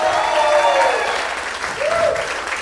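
Church congregation applauding a singer after a worship song, a steady wash of clapping with a sustained tonal sound and a few voices over it.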